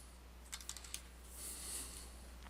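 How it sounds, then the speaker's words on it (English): Keystrokes on a computer keyboard entering AutoCAD dimension commands, a short burst of several quick clicks followed by a quiet pause, faint and close. "I could type in my dimension commands."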